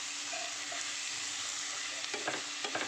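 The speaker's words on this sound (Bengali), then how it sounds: "ভালো করে এবার কষাবো। কষানো হচ্ছে এখন" Cabbage stir-frying with a hilsa fish head in a pan, a steady low sizzle with a few scraping stirs of the spatula toward the end.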